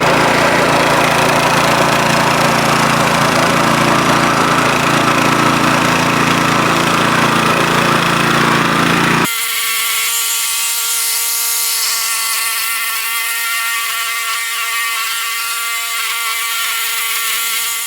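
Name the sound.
lawn scarifier running up and down a lawn removing moss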